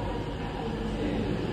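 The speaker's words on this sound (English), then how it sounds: "That's not our train. It's not our train. That's the one before." A train rumbles past on the platform at a station, a steady, broad, loud roar of wheels and carriages that fills the whole clip.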